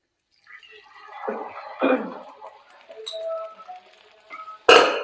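Cooked chickpeas drop into hot masala in a pan for Punjabi chole, giving a few splattering sizzles and clinks between quieter stretches, closing with a sharp loud burst.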